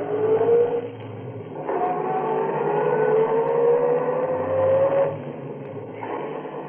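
Radio drama sound effect of a car driving away fast at night, a loud engine revving and climbing steadily in pitch through the gears, close and continuous with no voices.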